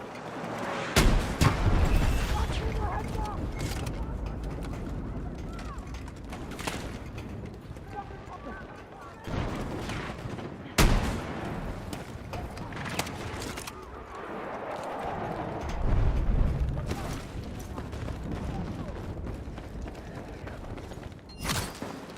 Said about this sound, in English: What is raining mortars down?